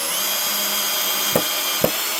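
Power drill driving screws into wood while fitting out a P19 Oshkosh rescue rig, a steady whining motor hum broken by two short sharp bursts as the screws bite in.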